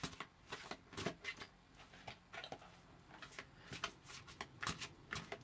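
A large tarot deck shuffled by hand, giving rapid papery riffles and flicks in quick repeated bursts, close and clear with no talking over them.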